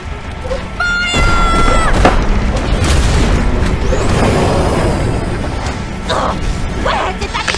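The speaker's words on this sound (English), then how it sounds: "Where did that explosion come from?" Cannon fire in an animated series battle: a loud, sustained barrage of booming blasts and thuds that fills the whole stretch, with a brief tonal whistle early on and scattered later impacts.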